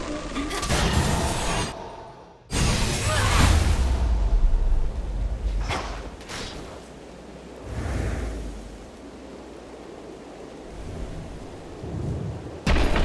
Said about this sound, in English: Shelter from the storm.